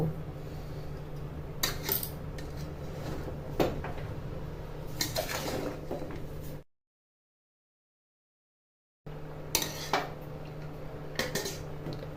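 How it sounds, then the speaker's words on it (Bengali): A spoon scrapes and clinks around a pot of simmering mung dal with bottle gourd, soft intermittent metallic stirring at close range, broken by a short silent gap. "উপরেরগুলি নিচে, নিচেরগুলি উপরে, এইভাবে ঘুরিয়ে ঘুরিয়ে নাড়াচাড়া করছি"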